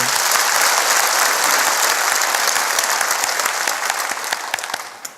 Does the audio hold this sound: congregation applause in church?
yes